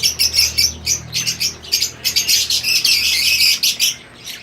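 Chicks chirp during hand-feeding in rapid, high-pitched peeps, loud and close, in bursts throughout with no talk.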